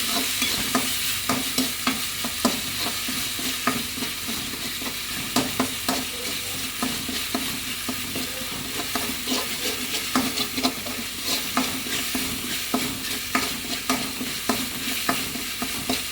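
Masala for chicken curry fries in a pan, with a constant loud sizzle and continuous close scraping stirs, with no voices.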